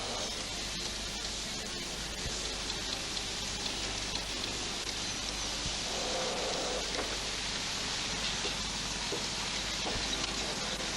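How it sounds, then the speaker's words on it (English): Heavy rain pouring down steadily on a building site in Strathpine, Queensland, a dense, loud, continuous hiss with scattered drop impacts and no speech. "while the rain pours down and soaks them"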